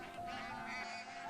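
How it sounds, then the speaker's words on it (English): Bar-headed geese calling at the Pong Dam reservoir beneath the Dhauladhar Range, a steady chorus of nasal honks and quacking cries from a landing flock, layered and continuous throughout. "Excitement is in the air as the first group of bar-headed geese land."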